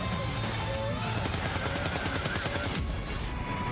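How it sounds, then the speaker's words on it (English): Rapid shots fire in a video game as an enemy is gunned down, a steady dense rattle of gunfire running throughout at moderate loudness, thinning out near the end with a sharp burst. "You can probably just shoot it."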